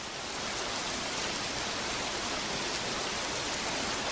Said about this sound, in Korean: 오로지 세차게 내리는 빗소리만 집어넣습니다